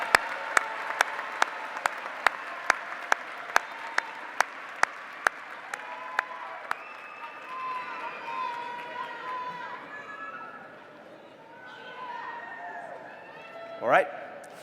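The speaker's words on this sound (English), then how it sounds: "Let us applaud these candidates from the College of Liberal Arts and Human Sciences." A crowd claps at the Virginia Tech Fall 2016 university commencement as graduates of the College of Liberal Arts and Human Sciences are honored. A burst of sharp, distinct claps fades into crowd murmur and cheering, with voices chattering throughout.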